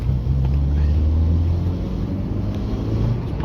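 A Volkswagen Lupo 1.0 pulls away in third gear, its engine a loud, steady low drone heard from inside the car with rumbling road noise and no talking.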